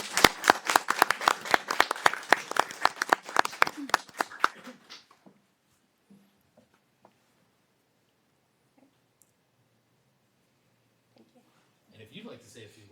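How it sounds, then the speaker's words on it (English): Applause for Marissa Young at a mayor and city council meeting, a few seconds of steady clapping from a small audience in a hall, fading out into near silence with faint murmuring afterward. "let's give Marissa Young a great big round of applause"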